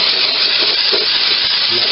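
Brake cleaner from an aerosol can sprays onto a part of a 1946 Boxford lathe during restoration, a close, loud and steady hiss lasting the full two seconds.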